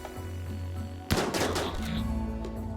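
Gunfire in the video game RimWorld Odyssey, with a turret in the fight, bursts out suddenly midway through as a sharp, loud volley over a steady low hum that keeps rumbling after the shots.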